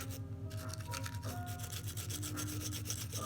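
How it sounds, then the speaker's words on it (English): Glock pistol parts get scrubbed with a brush in quick, rhythmic rubbing strokes, close and fairly quiet, with no voices over them. "So you really want to scrub."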